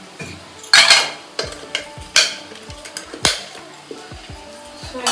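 Sambar is tempered in a hot pan with a continuous sizzle, broken by several loud metallic clinks and scrapes of a utensil against the pan, and faint speech in the background.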